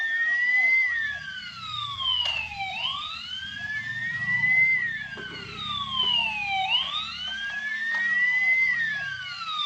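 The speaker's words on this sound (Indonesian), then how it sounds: "ini ada truk pemadam kebakaran yang besar, teman-teman. Coba kita nyalakan." A big toy fire truck's electronic siren wails in repeating rising and falling sweeps, loud and close, running unbroken for nearly ten seconds.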